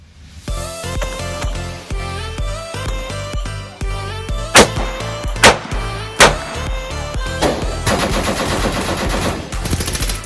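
Rapid pistol fire from Shadow Systems MR920L and XR920 handguns outdoors, a dense string of sharp shots in quick bursts with several louder cracks standing out, heard close and without talk.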